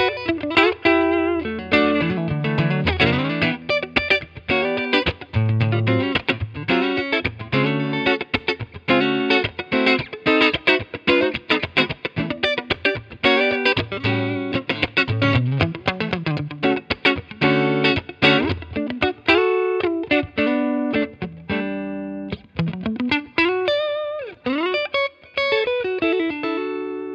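An electric guitar plays through a Line 6 Catalyst 60 amplifier on a clean setting with chamber reverb, picking a steady run of bright single notes and chords with lingering ringing tails.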